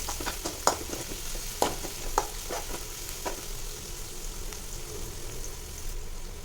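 Crushed garlic and onion frying in a pan for a chicken semi gravy, a steady close sizzle with scattered sharp pops and crackles, no talking.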